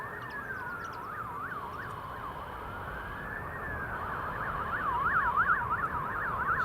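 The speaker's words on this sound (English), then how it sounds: "Some sirens responding to something over by the airport." Emergency vehicle sirens responding near Newcastle International Airport, several wailing and yelping tones overlapping at a middle distance, growing slightly louder and faster toward the end over a low background rumble.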